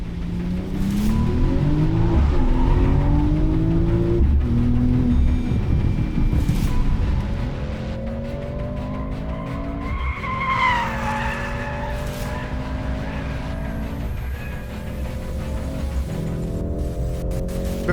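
A sports sedan, either a Mercedes-AMG C43 or a BMW M340i, laps a 3.8 km racetrack. The engine drones and rises through the gears, with the tyres squealing through the corners, loud and steady the whole time, and nobody speaks.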